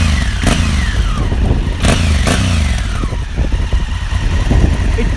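Honda Africa Twin motorcycle with a Remus exhaust, its engine revved repeatedly: loud, close blips rising and falling in quick succession over a rumbling idle, with no talking.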